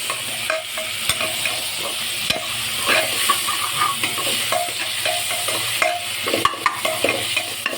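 Chopped tomatoes are stirred into onions frying in a pot for homemade tomato-onion gravy pasta, with a steady close sizzle and repeated spoon scrapes and light clicks against the pan, and no talking.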